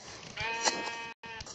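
Sheep bleat in a video game, a drawn-out wavering cry followed by a short second bleat after a brief gap, fairly faint and heard alone.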